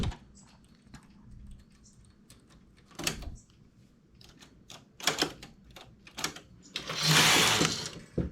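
A knitting machine working a bikini piece gives off sparse, sharp mechanical clacks and ticks, ending in a loud, rushing sweep of the carriage near the close.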